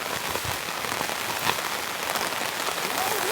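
Heavy rain drums steadily on a tent while camping, a dense, even hiss of countless drops close around, loud and unbroken with no talk.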